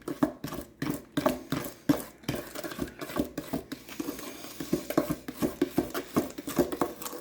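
Brownie batter being mixed with melted butter makes a quick, even rhythm of wet slapping and scraping strokes against the bowl, close up and fairly quiet.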